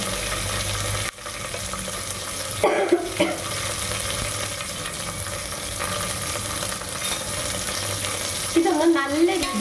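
Green chillies, ginger and garlic sautéing in a hot pan, a steady close sizzle with occasional scraping stirs of a spatula and a few sharper clatters toward the end.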